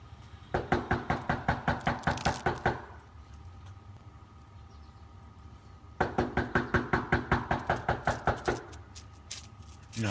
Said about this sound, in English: Knock, knock, bitches.